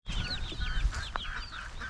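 Several guinea fowl, white guineas among them, call together from a pen, a busy overlapping chorus of repeated harsh chattering cries at close range with no talk over it.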